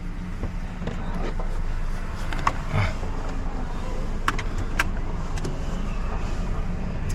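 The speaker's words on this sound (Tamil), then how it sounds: "இந்த அக்கா தான் நம்மளுக்கு ஓட்ட போகிறாங்க காரு மிட்ஸுபிஷி வண்டி" A Mitsubishi taxi driving in Thailand, heard from inside as a steady low engine and road rumble with faint intermittent clicks and creaks from the cabin.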